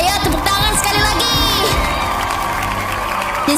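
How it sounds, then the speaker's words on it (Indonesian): A large audience cheers and shouts at a live stage event, a dense continuous wall of crowd noise with high whoops rising over it, steady and loud for the whole stretch. "Ayo tepuk tangan sekali lagi."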